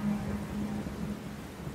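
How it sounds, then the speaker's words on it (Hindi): Rain pours down with thunder, a dense and steady hiss with low rumbling beneath it, joined by a faint sustained low tone. "बारिशें आ गई"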